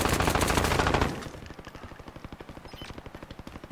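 Gunfire in the video game Modern Warfare opens with a loud, dense burst of shots for about a second, then settles into a quicker, quieter string of evenly spaced rapid-fire cracks.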